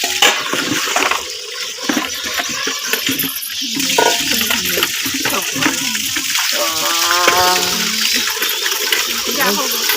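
A bucket of water is poured over a small child during a bath at home, making a continuous splashing gush under lively talk from people nearby.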